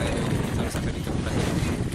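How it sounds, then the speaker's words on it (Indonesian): Steady wind and rain at a flooded river during a search for a drowned woman, a dense continuous roar of gusts buffeting the microphone with rushing water beneath, loud and unbroken throughout. "Untuk saat ini kondisi hujan di sini, angin juga."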